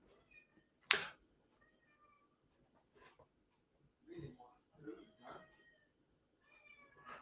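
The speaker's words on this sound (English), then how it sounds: "that cat is just making such desperate noises" A cat meows repeatedly in short, thin cries scattered across several seconds, faint and somewhat distant, with a sharp knock near the start and a quiet room around it.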